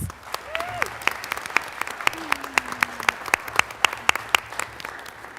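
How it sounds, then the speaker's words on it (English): A small group claps for a student at a school board meeting, with sparse, distinct hand claps in an uneven rhythm and a faint voice or two underneath. "Let's give him a big round of applause."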